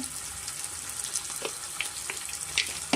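Onions fry in a pan with a little salt and turmeric, a steady close sizzle crackling under occasional stirring scrapes and light taps.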